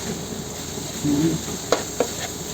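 Ground meat and onion for pancit miki bihon sauté in a pan with a steady, close sizzle, broken by two sharp scraping stirs.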